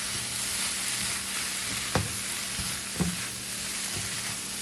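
Tofu stir fry with red quinoa sizzles steadily in a pan, with a couple of sharp scraping stirs cutting through the constant hiss; no one speaks.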